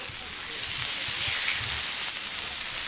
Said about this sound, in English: The special thing about this barbecue is it's on a volcanic rock.